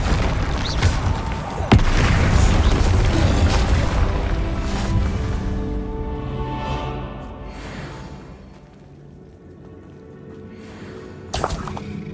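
A Confringo blasting spell detonates in Hogwarts Legacy, a loud booming explosion that rumbles and fades over several seconds, followed later by a sharper burst of magical impact.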